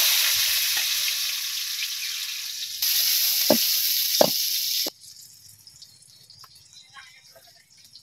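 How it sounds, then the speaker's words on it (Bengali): Onion paste frying in hot oil for a Bangladeshi village-style river fish curry, giving a steady sizzle that drops off sharply partway through, with a few sharp clatters of utensils and faint background sounds afterward. "তাই আগে পেঁয়াজের সম্বাদ দিয়ে দিতেছি।"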